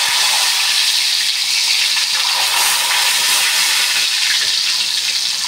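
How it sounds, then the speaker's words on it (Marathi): Water spooned into hot oil where banana wafers are frying makes a loud, steady hiss and crackle that holds for several seconds without a break. "आता ना याच्यामध्ये 1 चमच्याने असं पाणी टाकते"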